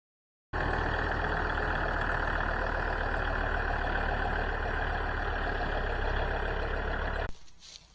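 A truck engine runs steadily while pulling a loaded feed trailer toward a barn on a livestock farm, a continuous close rumble that starts abruptly and cuts off near the end, with no talking.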